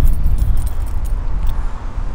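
Car keys for a new Dodge Charger R/T jangle steadily for a couple of seconds, a close, loud metallic rattle with a low rumble underneath and no talking.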